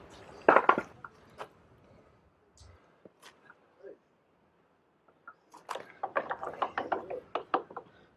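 A timber jack ratchets in short bursts of clicking while jacking up a truck, a brief burst early and a longer run of ratcheting clicks near the end, with quiet gaps between.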